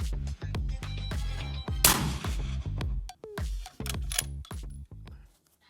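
Suppressed precision rifle fired in a rapid string of sharp, loud shots, about a dozen reports with short gaps, one louder ringing burst in the middle, ending abruptly in silence.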